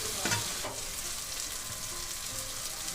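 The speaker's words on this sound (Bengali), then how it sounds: "এবার আমি বাঁধাকপিটা দিয়ে দেবো।" Cabbage goes into a hot frying pan with rohu fish head and chilli powder, giving a steady, close sizzle with a few scraping stirs early on.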